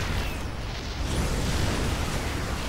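A Zerg Viper unit destroyed in a StarCraft match, heard as a dense explosive burst and rumbling blast noise filling the whole moment, loud and continuous with no voices.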